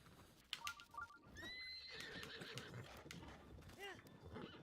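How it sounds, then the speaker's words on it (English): A horse in the video game Breath of the Wild gives a loud whinny, with hoof clip-clops and someone talking over the game sounds. "I know they have horses"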